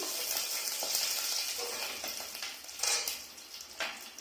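Whole spices such as bay leaf, cloves and cardamom go into hot oil with cashews for pulao, giving a steady close sizzle with light stirring and faint clinks of utensils throughout.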